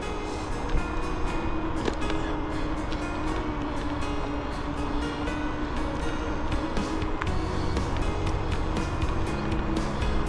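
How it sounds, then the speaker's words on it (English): Steady roar of busy motorway traffic on Eastlink heard from a trail crossing over the freeway, a continuous broadband rush with passing vehicles blending into a constant near, loud wash. "Hear the traffic. As you can see, Eastlink's fairly busy."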